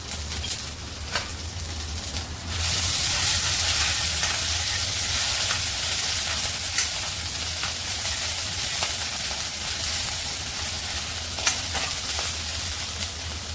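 Ginger garlic paste and cumin seeds sizzle and fry steadily in hot oil in a pan, a continuous close crackling hiss that rises sharply after a quieter start and carries on throughout without talk.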